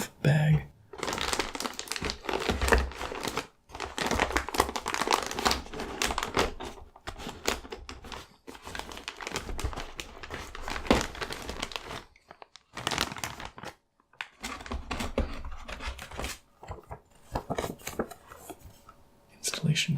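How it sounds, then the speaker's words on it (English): Conductive anti-static bag holding an XFX RX 590 graphics card crinkling up close in dense, loud bursts with short pauses between them, under soft speech. "shock-resistant conductive bag."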